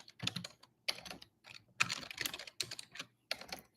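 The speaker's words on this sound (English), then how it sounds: "my typing is a bit horrendous" Quick bursts of clicky typing on a computer keyboard, close and fairly quiet, arriving in short clustered runs separated by brief pauses, with no talk.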